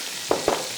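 Chopped onion and garlic hit melted butter in a pan, giving a soft steady sizzle with two quick bursts of stirring or spattering close by.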